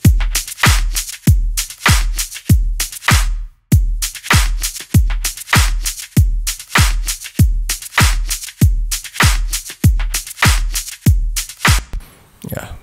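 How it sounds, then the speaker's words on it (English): Electronic beat from an Ableton production, made of a kick drum with claps and a snap, punchy hits repeating in a steady loud pattern with a brief gap, then fading into noise at the end. "just a kick and couple of claps and snap."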